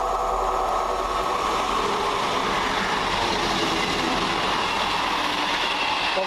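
A passenger train running from Cardiff Central to Bristol Temple Meads passes close through a station with a loud, steady rumble and rolling rail noise, with faint wheel clatter and squeal throughout.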